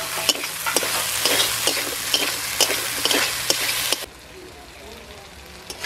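Fried eel pieces being sautéed in a pan with frying masala, giving a steady close sizzle with repeated scraping stirs for about four seconds before the sizzle drops to a quieter simmer.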